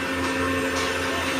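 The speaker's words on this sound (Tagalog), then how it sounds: "Binabacuum yung dun sa unahan na transformer." Vacuum machine drawing moisture from transformer oil during transformer installation work, a steady mechanical drone with a constant pitched hum, running alone without voices.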